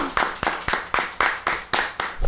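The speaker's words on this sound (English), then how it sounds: "I guess everybody get a round of applause, especially the performers in these videos" A single person claps steadily, about eight sharp, close, evenly spaced hand claps in a brief round of applause, with no voices over them.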